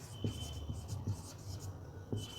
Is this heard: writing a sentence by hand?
yes